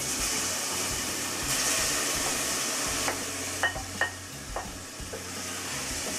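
Chopped vegetables are stirred into a dark gumbo roux in a pot over low heat, giving a steady close sizzle with a few sharp spoon clinks and scrapes against the pot.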